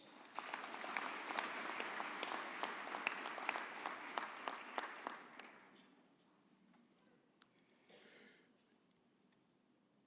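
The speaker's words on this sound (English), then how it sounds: "you deserve a firm round of applause" Audience applause at a university autumn graduation ceremony, a dense wash of many hands clapping steadily for about five seconds before thinning out to a few scattered claps and a faint murmur.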